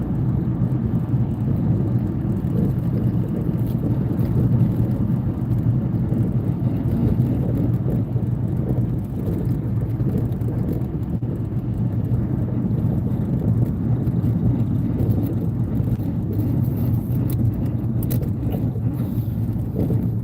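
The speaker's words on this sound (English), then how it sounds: "You guys can hear my car." A car's engine and road rumble from inside the cabin, on a vehicle worn by rough dirt roads on a reservation: a steady, loud low drone with wind noise and no letup.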